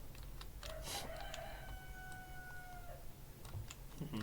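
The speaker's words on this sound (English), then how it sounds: "Chickens are just crowing all over here as I record these tutorials in the morning" A rooster crows in the morning at moderate distance, one drawn-out call lasting about two seconds, faint against a quiet room, with soft clicks around it.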